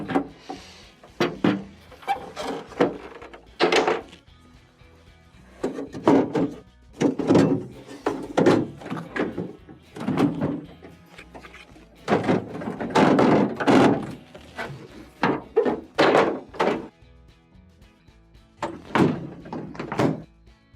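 Plastic door bins are lifted out of a GE refrigerator door, making a series of hollow thunks and knocks at close range, irregular and spread across the whole stretch with short quiet gaps.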